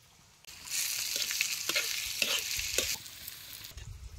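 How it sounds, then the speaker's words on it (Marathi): Chopped onion and tomato sizzle loudly in hot oil in a pan over a village wood-fired stove, with a few scraping stirs, the frying starting abruptly and easing off near the end. "या कांदा टमाटो तेला चांगलं भाजून घे"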